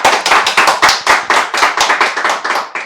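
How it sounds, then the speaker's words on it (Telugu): An audience applauds on cue for Chandrababu Naidu, giving a dense, steady run of rhythmic hand claps close by, with no talk over it. "చప్పట్లు కొట్టండి ఒకసారి"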